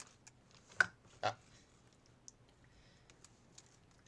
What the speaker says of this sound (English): Sorry, I hit my keyboard accidentally.